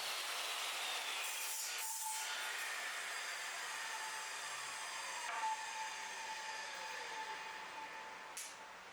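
A table saw with a sled whines steadily as it cuts through wood, a continuous high buzzing grind that eases off near the end.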